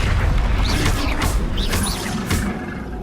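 Spell blasts from Bombarda and Confringo in Hogwarts Legacy, a few loud booming bursts with whooshing crackle over a dense low rumble, close and continuous across the moment.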